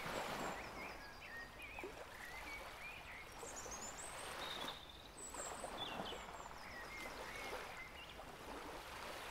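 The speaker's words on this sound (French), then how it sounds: "Et vous écoutez le bruit des vagues," Ocean waves wash steadily in the distance as a soft, continuous broadband rush, with scattered birds chirping and calling above it throughout.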